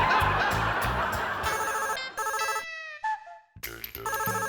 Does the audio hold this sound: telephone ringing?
yes